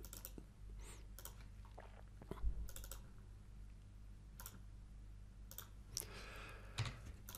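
A computer mouse clicks in quiet bursts while working in Adobe Illustrator, soft close single and double clicks spaced a second or so apart over faint room noise, with no talking.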